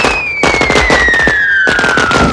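Rapid crackling bursts from a string of explosions set off in the movie Home Alone 3, loud and close, in two dense volleys under a steady descending whistle, with no talking.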